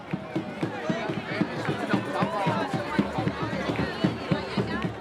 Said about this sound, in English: an immense crowd drawn from all around the world gather to celebrate sunrise on the first day of summer